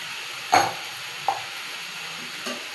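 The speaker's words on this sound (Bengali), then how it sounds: "এরপর আমি মশলাটাকে একটু কষিয়ে নেব।" Spices with turmeric and salt cook in a pan for a rui fish curry, a soft steady sizzle broken by three short stirring scrapes and clinks.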